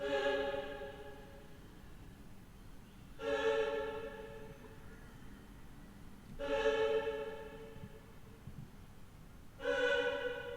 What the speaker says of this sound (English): Then I've added a staccato choir, which sounds like this.